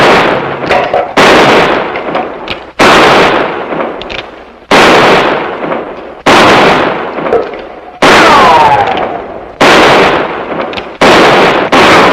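Repeated gunshots from target shooting in an Old West setting ring out loud and close, about eight sharp cracks spaced a second or so apart, each trailing off in a short echo, with no talk over them.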